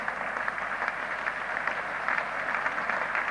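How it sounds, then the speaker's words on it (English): Crowd at Lord's applauding during the 1975 England v Australia Test match, a steady, distant wash of clapping that holds evenly throughout with no talk. "Applause for Barry Wood and for Thompson."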